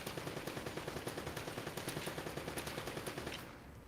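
Rapid automatic gunfire in a video game, a steady rattling burst of evenly spaced shots that runs loud and continuous for over three seconds before cutting off.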